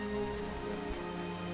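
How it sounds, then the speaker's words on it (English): Steady acid rain falls in the video game Starbound, a faint, even patter with a constant hum of game ambience underneath and no break in the sound. "it's raining!"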